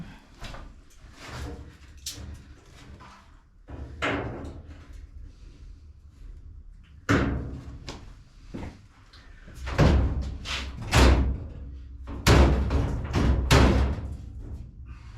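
Door steps are clipped into place on a 1972 Classic Mini Clubman estate during a build, with scattered plastic clicks, knocks and several heavier thuds and bumps close by, irregularly spaced.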